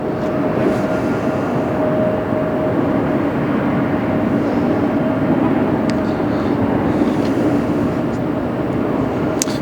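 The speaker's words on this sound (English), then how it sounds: "Tuna 978, that is United 33 Heavy from Narita" Heavy jet airliner, United 33 arriving from Narita at LAX, a steady broadband roar with a faint tonal whine holding throughout, loud and continuous with no gaps, under a faint airport ambience.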